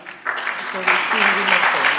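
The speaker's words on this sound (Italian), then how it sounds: "un grande applauso a Sofia" Applause from an audience at an award event, a short burst of clapping that rises and fills the room, mixed with a voice speaking over it.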